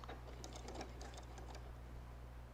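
A sewing machine back-stitches through a quilted fall table runner, giving a quick run of light, evenly spaced mechanical clicks over a steady low motor hum, close and fairly quiet.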